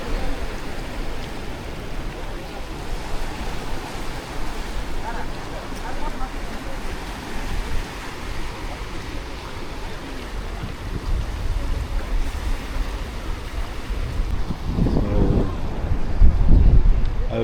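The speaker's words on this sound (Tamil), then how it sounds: "அந்த கடல் அலையை வந்து பாறையில் மோதுறது." Sea waves rolling in and breaking against rocks on the Goa coast, a steady rumbling wash with wind across the mic, growing louder toward the end with a heavier surge.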